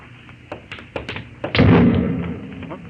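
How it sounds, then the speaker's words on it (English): A radio-drama explosion effect from a 1950 science-fiction story: light thuds and taps, then a sudden heavy low boom that rumbles and fades over about a second. "No, that was an explosion."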